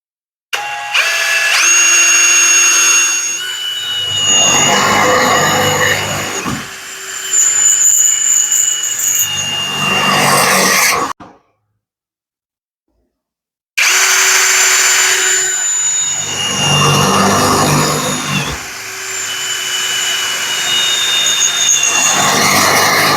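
A power drill whines loudly in two long bursts, grinding steadily with slight pitch changes while drilling into metal on a vehicle during a 4x4 awning install, separated by a few seconds of silence.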